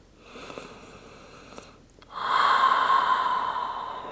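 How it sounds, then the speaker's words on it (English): A deep breath taken during a yoga stretch, with a soft, quiet inhale first and then a longer, louder exhale that trails off, close and with no talk. "Take another breath"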